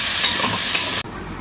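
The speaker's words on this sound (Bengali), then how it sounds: "একটু নাড়াচাড়া করে নেব। পেঁয়াজটা ভাজা ভাজা হলে" Onions fry in a pan while being stirred, a loud close sizzle with two brief scraping strokes, cutting abruptly to a quieter hiss after about a second.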